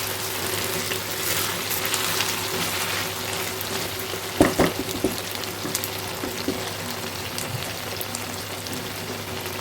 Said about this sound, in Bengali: এখন এর মধ্যে আমি ঝোল দিয়ে দিব মাংসটা সিদ্ধ হওয়ার জন্য